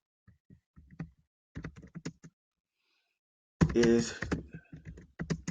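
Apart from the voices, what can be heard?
typing on a computer keyboard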